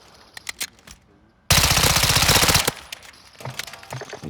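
A Call of Duty video game weapon fires a loud, rapid automatic burst lasting about a second. Quieter in-game clicks and shots come before and after it.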